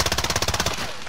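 Rapid automatic gunfire from Call of Duty: Modern Warfare, a fast burst of about a dozen close, loud shots lasting under a second, then a short ringing tail.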